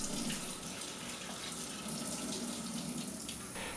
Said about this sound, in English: I just keep it under the hot running water for a bit longer to further heat it up